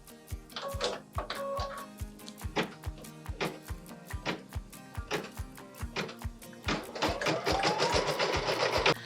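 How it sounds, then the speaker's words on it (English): An embroidery machine stitches a red vegetable in a vegetable design, giving a steady rapid ticking of needle strokes close by, with a denser whirring passage near the end and no voices. "Machine step 20 is stitching the red vegetable."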